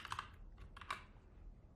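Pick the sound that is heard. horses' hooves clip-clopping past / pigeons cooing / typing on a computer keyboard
typing on a computer keyboard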